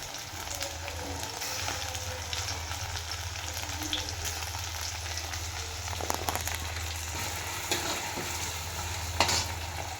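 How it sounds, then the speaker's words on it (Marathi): Onion and tomato sauté in a pan, a steady close sizzle under a low constant hum, with occasional scrapes and clinks of stirring. "टोमॅटो थोडा परतून घ्यायचा आहे"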